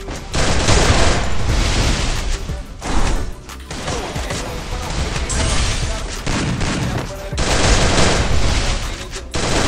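Garena Free Fire mobile battle bursts with dense, loud automatic gunfire and rapid shots in near-continuous volleys, with brief gaps and impacts, while a player talks over the action.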